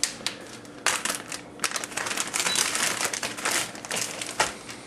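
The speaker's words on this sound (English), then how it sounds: "so I'm going to go ahead and put it in a Ziploc baggie." A plastic Ziploc bag crinkles and rustles in a kitchen as leftover biscuit mix is put into it, with irregular bursts of crackling, close and moderately loud, and no voices.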